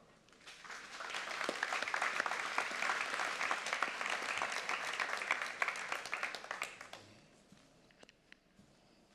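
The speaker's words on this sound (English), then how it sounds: "Let's clap for her." An audience claps for Scottish percussionist Dame Evelyn Glennie at a disability summit, the applause swelling quickly, holding dense and even for several seconds, then dying away into near quiet.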